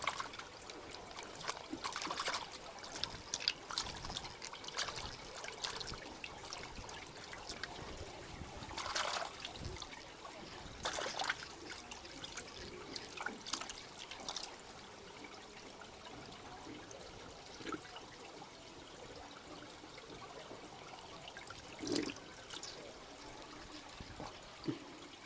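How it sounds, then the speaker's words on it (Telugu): Water trickling inside a cave in America, a faint ongoing dribble with scattered drips and small splashes across the whole stretch, soft and somewhat distant, no talking. "వాటర్ కూడా వెళ్తుంది."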